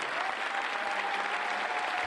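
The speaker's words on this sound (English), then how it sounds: "I'd like you to put your hands together for the security team in the red shirts." Audience at the DEF CON 19 hacking conference closing ceremonies applauding the security team, steady loud clapping from many hands filling the hall without pause.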